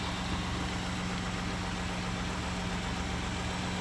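A 2018 Ford F-150 EcoBoost engine with low coolant and a tapping noise runs steadily at a close distance, giving a constant mid-to-low engine drone with a faint whine on top. No voices are heard.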